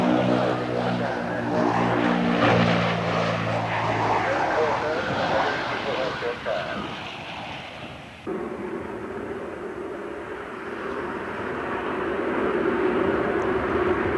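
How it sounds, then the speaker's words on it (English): A G222 turboprop transport aircraft at the 1986 Farnborough air show, droning loudly overhead, its propellers giving a steady tonal hum at first, then the sound shifts abruptly to a rougher engine roar. "Air Italia's G222 takes only a couple of hours to convert to a firefighting plane."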